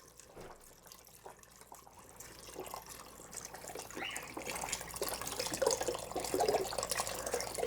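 Four cups of chicken stock poured into an Instant Pot of black-eyed peas with bacon, a steady liquid pour and splash that builds louder over several seconds, close up with no talking.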